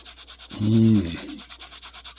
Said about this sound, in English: It's buffing it. Look. The more you buff it, the more dirt comes up.